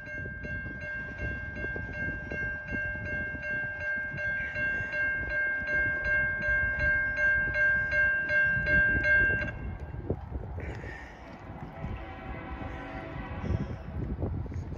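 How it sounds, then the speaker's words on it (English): A Norfolk Southern coal train passes eastbound in Wauseon, Ohio, with a steady, loud rumble of rolling cars and a sustained horn blast. The horn cuts off partway through while the wheel and rail noise carries on. "We have a train coming, check it out,"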